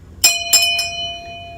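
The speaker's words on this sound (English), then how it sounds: "ring that notification bell" A notification bell chimes three times in quick succession, bright ringing strikes with a sustained tone fading out afterward, alone with no talk.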